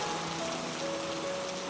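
Heavy rain pours down in a dense, constant roar of drops hitting surfaces, loud and unbroken, with no voices.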